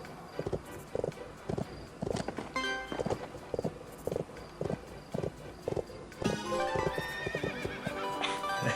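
A horse whinnies and snorts in a video game while hooves clip-clop in a steady walking rhythm, with game music and chimes layered over it.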